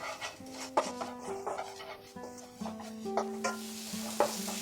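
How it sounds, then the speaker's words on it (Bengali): Grated coconut frying with spice paste over medium heat for a vegetarian chalkumro ghonto; a soft, quiet sizzle under repeated scraping stirs of a spatula against the pan, with no talk. "নারকেল কোড়া দিয়ে মশলাটার সাথে ভালো করে মিশিয়ে নেব আর এটাকে ফ্রাই করব মিডিয়াম আঁচে"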